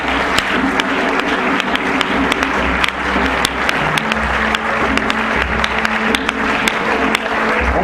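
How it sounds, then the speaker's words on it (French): Congregation at a church service applauding steadily to acclaim the Lord, dense clapping from many hands sustained throughout, with a low hum of crowd underneath. "Est-ce qu'on peut acclamer le Seigneur?"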